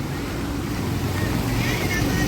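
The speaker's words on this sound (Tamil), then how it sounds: "இலங்கை போக்குவரத்து சபைக்கு சொந்தமான பஸ் ஒன்று வருது பாருங்கள்" A bus's engine rumbles steadily as it drives through floodwater, with continuous splashing and wash filling the scene.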